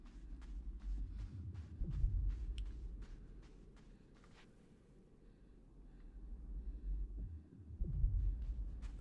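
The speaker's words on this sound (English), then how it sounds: "That heartbeat noise has gotten more complicated." A low, muffled heartbeat-like throb in the puzzle game Inside, rising and fading in slow swells with soft clicking ticks above it and no talking.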